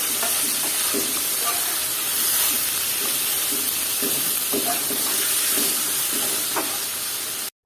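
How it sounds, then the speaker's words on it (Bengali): Cabbage and other mixed vegetables fry in a pan with a steady hiss and sizzle while a spatula stirs them in occasional soft scraping strokes, close and continuous until an abrupt stop. "আর এটাকে এখন নেড়ে চেড়ে দিলাম"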